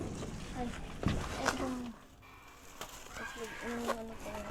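Chickens cluck and squawk nearby in short bursts, fairly faint, with some background activity.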